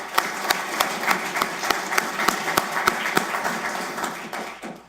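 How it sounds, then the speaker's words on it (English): Audience at a detention center graduation applauding the training staff, scattered sharp claps over a steady wash of clapping that holds for several seconds before thinning out at the end. "let's give them a round of applause"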